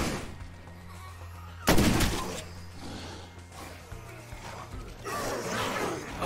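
Gunfire during a zombie fight at a gate in State of Decay: one loud, close shot cracks out near the two-second mark, and softer shots and rumbling game action follow beneath a low, steady tone.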